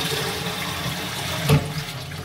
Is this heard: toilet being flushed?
yes